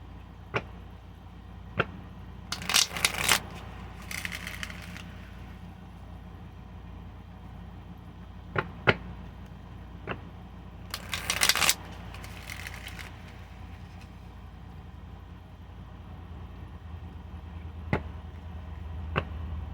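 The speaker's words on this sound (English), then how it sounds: "So I'm just going to aerate it with a little bit of shuffling." A new holographic Rider-Waite tarot deck, its cards sticking together, is shuffled by hand. Two short papery riffling bursts stand out among scattered soft taps and clicks, all quiet and close, with no speech.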